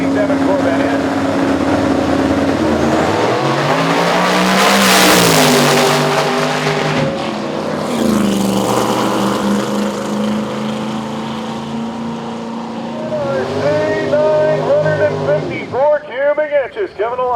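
A C7 Corvette radial drag race car with Mickey Thompson tires and twin 88 turbos revs loudly and continuously at the track, its engine pitch sweeping up and down, with an announcer talking over it and a sharp burst of revving near the end.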